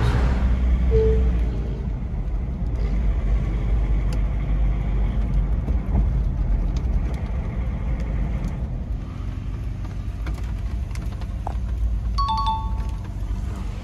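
Inside a small homemade mini motorhome on a test drive, a steady low engine and road rumble continues throughout, with a few brief chime-like dings breaking through near the start and again toward the end.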